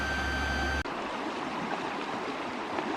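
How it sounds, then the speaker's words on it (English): A river beside a campsite rushes with a steady, broad wash of flowing water, close and even, after a brief burst of tonal hum at the start; no one speaks. "This is the river we're camping next to."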